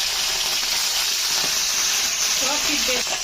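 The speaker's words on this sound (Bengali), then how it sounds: "এখন সব মাছগুলো একটা এক করে দিয়ে ভেজে নিচ্ছে" Fish fry in hot oil in a wok with a loud, steady sizzle and hiss throughout.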